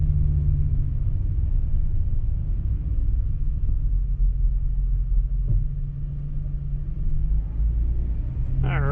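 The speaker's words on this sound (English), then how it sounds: "We get hit with the garbage truck at 12 o'clock." A garbage truck drives along a residential street, its engine a steady, loud, low rumble that rolls on throughout with a brief clatter near the end.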